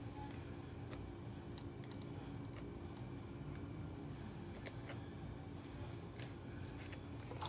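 Scissors snip through leftover tape on stage scenery for a Little Mermaid production, giving faint, scattered clicks and cuts over a steady, quiet background hum.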